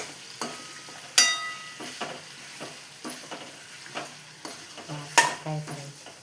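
Ridge gourd is stirred and fried in a pan, with a steady sizzle broken by a spoon scraping and clanking against the metal in irregular strokes, two of them sharp and loud.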